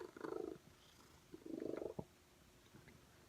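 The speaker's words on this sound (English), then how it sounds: "She purrs so loud." Two slow rumbling purrs from a cat, close and soft, each lasting about half a second with a quiet pause between.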